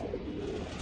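Racing pigeon giving a short low coo, close and fairly quiet, alone with no voices.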